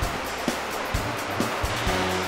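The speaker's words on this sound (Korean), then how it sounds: "순식간에 밀려온 파도." Ocean waves surge onto a rocky shore where coconut crabs spawn, giving a loud, continuous wash of surf with a few heavier thumps as the water breaks.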